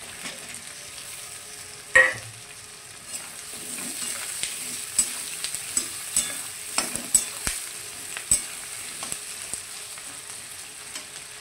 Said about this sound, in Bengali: এবার আলুগুলোও দিয়ে দেবো।